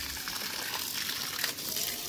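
Water gushes steadily onto dried-out plants, a continuous splashing pour heard close up without talk.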